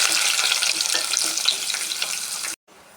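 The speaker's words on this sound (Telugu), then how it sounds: "ఇప్పుడు ఉల్లిపాయలు వేసుకోవాలి." Onions frying in a pan for a brinjal and chicken curry, a loud, dense, close sizzle with faint stirring, cutting off abruptly near the end before a softer hiss resumes.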